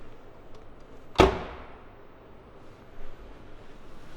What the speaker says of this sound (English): Door closure.